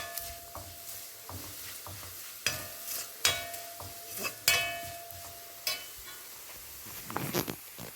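Ivy gourd stir-fry with turmeric in a pan is stirred with a spoon, giving sharp scrapes and clanks against the metal at irregular intervals over a soft sizzle.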